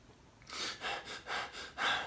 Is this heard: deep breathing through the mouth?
yes